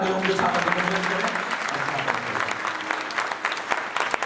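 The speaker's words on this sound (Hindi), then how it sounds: "इसलिए एक बार जोरदार तालियों के साथ अभिनंदन करें।" An audience at a Purushottam Maas religious discourse at an ashram in Burhanpur claps loudly and briskly for a few seconds, a dense burst with a low voice briefly audible at the start.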